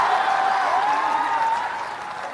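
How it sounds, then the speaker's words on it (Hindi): A crowd in Bapu Sabhagar hall at a Jan Suraj youth event claps steadily, a dense wash of applause with a sustained tone riding over it, easing slightly toward the end. "बजाइए ताली जरा।"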